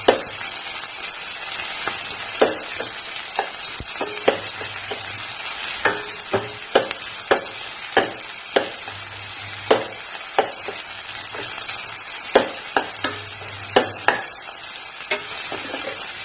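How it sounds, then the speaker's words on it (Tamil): Onions sautéing in a pan for a capsicum chickpea curry give a constant sizzle, punctuated by regular sharp clacks of a spoon stirring against the pan. "இந்த வெங்காயம் நல்லா வதங்கி வரக்காக தான். கொஞ்சம் டிரான்ஸ்பரண்ட் ஆனதையும் தக்காளி ஆட் பண்ணிக்கலாம்."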